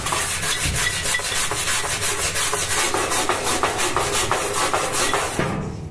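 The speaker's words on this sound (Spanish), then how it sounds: "hay que darle con un cepillo de alambre." Rusty part from a Whirlpool gas dryer being scrubbed hard with a wire brush: a loud, continuous gritty scraping with a quick back-and-forth stroke rhythm, close up and alone, easing off at the very end.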